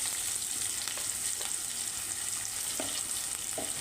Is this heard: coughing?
no